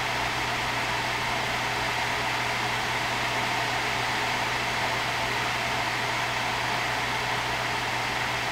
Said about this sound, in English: This is what it sounds like when you raise that fan and temperature limit right up.